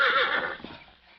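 A horse gives a single bright whinny that trails off over about a second, close and clear with no other sounds around it.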